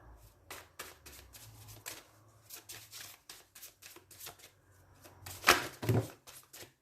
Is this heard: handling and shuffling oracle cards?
yes